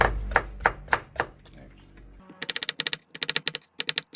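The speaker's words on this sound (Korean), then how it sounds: "자, 이렇게 해서 으슷하게 썰어줄게요." A knife chops cucumber into long diagonal slices on a cutting board, close and crisp: first four slower spaced strokes, then rapid rhythmic bursts of quick taps after a brief pause, with no talk.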